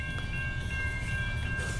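A long northbound CN mixed freight train rumbles past nearby, a steady heavy roar of wagons with a faint high metallic whine over the low drone.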